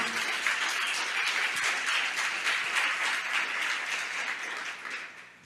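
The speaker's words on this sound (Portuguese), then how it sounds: "Você pode aplaudir ao Senhor" A church congregation applauds during a Portuguese-language sermon, a dense, steady wash of clapping that holds evenly for about five seconds and then starts to fade at the end.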